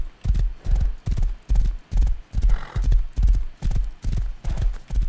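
Rhythmic clip-clop of horse hooves from riding in the video game Rust, a steady loud gallop of about ten even beats, close and clear with no talk.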